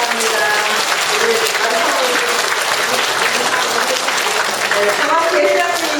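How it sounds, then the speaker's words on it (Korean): A large audience applauds at a Won Buddhist graduate school degree ceremony, dense and close clapping at full strength from start to finish. "이분 세 분들 위해서도 박수 한번 보내주시면 감사합니다"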